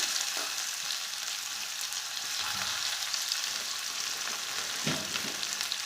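Steady hiss of onions, curry leaves and fennel seeds frying in hot oil, continuous and fairly loud, with a few brief stirring scrapes and no voices.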